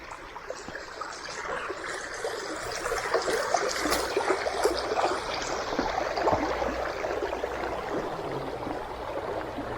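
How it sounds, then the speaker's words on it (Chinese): A small stream near red rock caves along the Bay of Fundy coast at St. Martins trickles steadily, a soft continuous babble of water at moderate distance with no voices. "我们就过去这个小溪"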